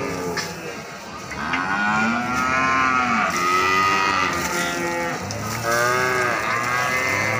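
Limousin cattle at a livestock market in Grabag, Magelang, lowing in long, overlapping moos one after another, loud and close, over a steady crowded market background.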